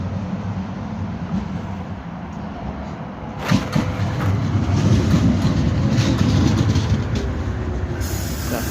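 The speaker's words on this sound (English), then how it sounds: "That's the Meadowall tram on the opposite side of the road." Tram passing at the Cricket Inn Road terminus, a steady rumble of wheels on rails that swells midway with clicking and faint squeals, then eases off; no talking.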